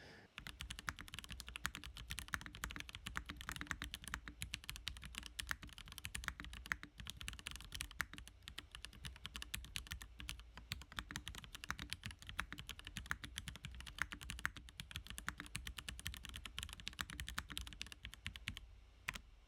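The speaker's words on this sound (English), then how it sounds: "I'm going to move the mic over the keyboard and we're going to test this out" Steady, fast typing on a NovelKeys Classic TKL mechanical keyboard with Proto Yellow switches, close up, with dense overlapping key clicks and no talking.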